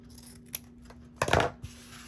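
Scissors trimming fabric for a mug rug, a quiet snip or two followed by a brief louder cluster of cutting and rustling over faint steady background hum.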